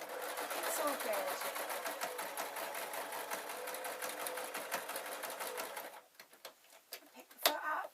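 A sewing machine stitches across a fabric knitting needle roll in a fast, steady mechanical whir for about six seconds, then stops, leaving a few clicks and handling noises as someone talks.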